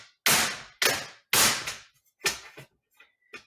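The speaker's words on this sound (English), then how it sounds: "When you hit it on the counter, it's so you get the air out." A silicone Madeleine Flexipan tray is knocked on a kitchen counter, giving six sharp, close thumps in an uneven run, the last few softer, with no talking.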